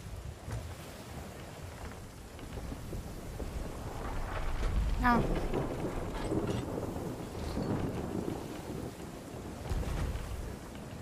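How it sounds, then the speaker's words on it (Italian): Gusting wind over open sea in the pirate game Sea of Thieves, a faint, broad rushing noise that swells and ebbs, with a brief higher whistling streak partway through. "Guarda il vento!"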